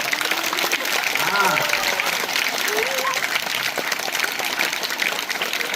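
An audience at a silambam martial arts awareness rally claps in a dense, steady wash of sound that lasts the whole stretch, with voices rising over it.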